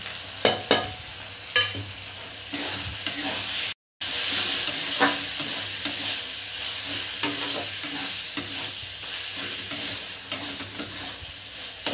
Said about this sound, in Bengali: আমি মশলাটা একটু ভেজে নেবো ভালো করে।